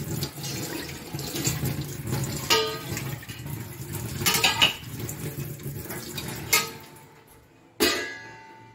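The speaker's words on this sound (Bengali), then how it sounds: "এই যে এখানে আমি আমার থালাটা ধুয়ে নিই" A plate being washed under a running tap, with water splashing steadily over dishware and occasional louder clatters and knocks before the flow stops near the end.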